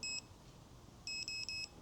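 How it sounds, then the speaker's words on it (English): Faint electronic beeps from VEITORLD 20V cordless electric pruning shears: one short single beep, a pause, then a quick triple beep, high-pitched and clean over low background hiss. "long press and hold until you hear a single beep and a triple beep"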